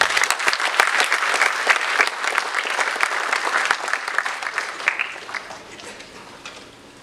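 An audience at a corporate summit applauding to welcome a speaker to the stage, dense clapping that is strong at first and then gradually thins and fades out.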